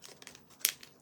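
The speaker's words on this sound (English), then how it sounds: "We are opening Happy Mail from Janice." Packaging from a mail package crinkles faintly in short bursts, with one sharper, brighter crackle near the middle as the wrapping is pulled at.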